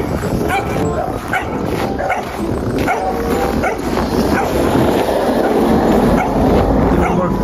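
Several dogs bark and yip repeatedly in a small town, loud and continuous with some whimpering mixed in, while a person speaks underneath.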